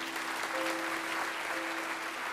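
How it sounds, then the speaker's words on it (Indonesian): A church congregation claps together in steady, dense applause that fills the whole moment, loud and continuous with a faint held tone underneath. "Kasih tepuk tangan untuk Tuhan."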